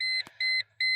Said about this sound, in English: Don't know why it's beeping so much.